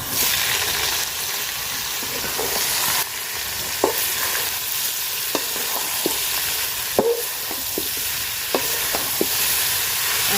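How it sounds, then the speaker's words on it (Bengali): Gourd greens stirred into a pan of onion, garlic and chili frying until reddish, giving a steady close sizzle with repeated spatula scrapes and taps throughout and no talking. "পেঁয়াজ আর রসুন মরিচ আমি লাল লাল করে বাজিয়ে নিছি শাকটা দিয়ে দিব এখন"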